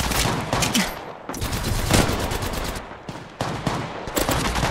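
Gunfire in the mobile shooter Apex Legends Mobile: dense, loud bursts of rapid automatic fire, close and nearly continuous with short gaps, in a hectic squad fight.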